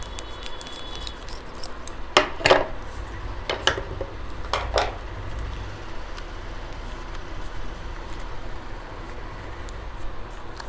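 Protein powder being mixed into 250 ml of water: a few sharp clinks and knocks against a container, grouped in two short bursts early on, over faint background hiss with no speech.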